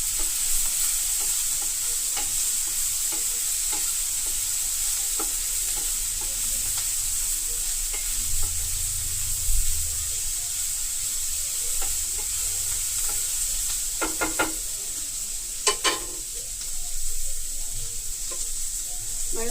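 Ivy gourd (tindora) fries in a pan for a cumin-chilli dry fry, giving a steady, close hiss of sizzling oil throughout, with scattered light taps and scrapes of a spatula stirring.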